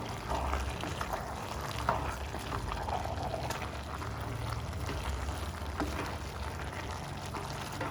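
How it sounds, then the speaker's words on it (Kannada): Fenugreek seeds dry-roasting in a pan for pickle make a faint, steady crackling sizzle with soft scattered pops and no talking. "ಉಪ್ಪಿನಕಾಯಿಗೆ ಒಂದೆರಡು ಸ್ಪೂನಷ್ಟು ಮೆಂತ್ಯ ಉರಿತಾ ಇದ್ದೀನಿ"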